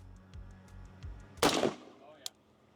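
A single sharp gunshot during test firing rings out near the middle, a loud crack with a short decaying tail, preceded by a few soft thuds and followed by one faint click.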